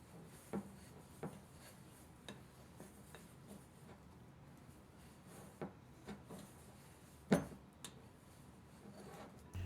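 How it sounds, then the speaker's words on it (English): A spatula scraping the sides of a mixing bowl to fold the last flour into no-knead bread dough, quiet scattered rubs and taps at an uneven pace, with one firmer knock near the end. "I'll finish by scraping the sides of the bowl to get the last bits of flour into the dough"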